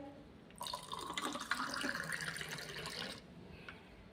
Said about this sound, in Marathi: थंडगार पाणी आपण ॲड करतो